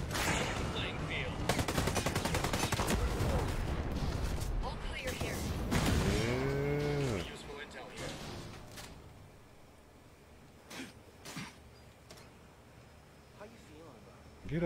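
Video game gunfire: dense bursts of automatic shots and sharp single reports, loud for the first several seconds, then thinning to scattered distant shots with mechanical clicks.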